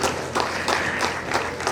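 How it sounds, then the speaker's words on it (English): Audience at a physiotherapy conference clapping, a short burst of dense, mid-distance applause from a crowd in a hall. "I think you should clap for us."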